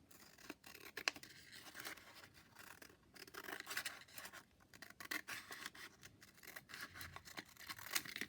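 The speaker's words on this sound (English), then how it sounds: "I'm going to very carefully cut on those fold lines" Scissors carefully cutting paper along fold lines, a soft, faint run of small snips and scratchy rustles that continues unevenly, close up and quiet, with no talk.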